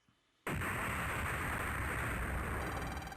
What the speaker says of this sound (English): 3 seconds until explosion.